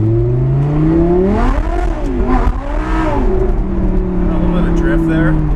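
An Audi R8 V10 fitted with a Fabspeed Valvetronic exhaust revs hard in first gear, the engine note climbing, dipping and rising again, loud and close, with someone talking over it.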